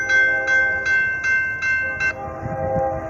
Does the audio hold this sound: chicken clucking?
no